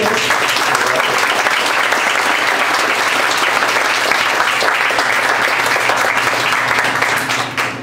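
Applause from the audience at a seminar in Guadalajara on the history of tattooing, greeting tattoo artist Sergio Reynoso. Dense, steady clapping from a sizable crowd holds loud and even for the whole stretch, easing slightly only at the very end.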